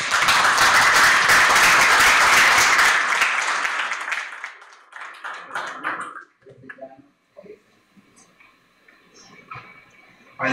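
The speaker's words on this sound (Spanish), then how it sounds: "el maestro Orlando Moscoso Cruz, para el cual pido un fuerte aplauso." An audience applauds at a university event hosting an electoral tribunal session: loud, dense clapping for about four seconds, then thinning to scattered claps and fading into quiet room noise.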